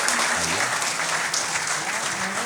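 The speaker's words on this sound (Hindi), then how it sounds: "आप लोग एक बार जोरदार तालियों से उनका इस्तकबाल कीजिए" Loud, sustained audience applause welcoming poet Dr. Urvashi Agrawal Urvi at a Delhi mushaira and kavi sammelan, a thick wall of clapping with a faint voice underneath early on.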